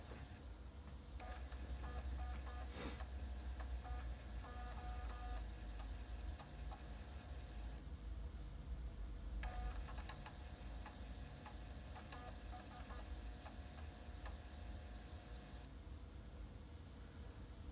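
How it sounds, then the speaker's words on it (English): A floppy disk drive in a modern computer booting MS-DOS gives quiet, steady ticking and whirring seek noises over a constant hiss, with no voices. "You can see the floppy drive is making noises."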